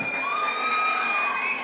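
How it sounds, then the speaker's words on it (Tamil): A college audience at a 2024 freshers day celebration at Fighter Wings Aviation College cheers loudly and continuously, with shouting voices blended into a dense, sustained crowd roar. "திரும்பவும் ஒரு கைத்தட்டல் கொடுக்கணும்."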